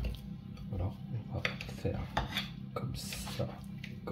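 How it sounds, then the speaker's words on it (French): A knife coarsely chops ham for a ham, Comté and mustard quiche tart, producing irregular light taps and clatters on a board alongside kitchen utensil sounds, close and fairly quiet. "On va tout simplement hacher le jambon grossièrement."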